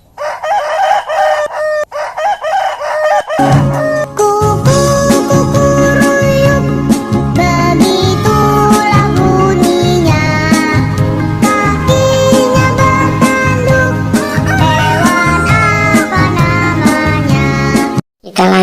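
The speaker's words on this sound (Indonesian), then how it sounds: "Ayam." A rooster crows and hens cluck loudly over a bouncy music track with a steady beat.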